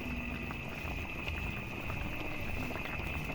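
Thick coconut milk goes into a simmering pan of tilapia, with a low, steady bubbling hiss that stays faint and even throughout, no voices.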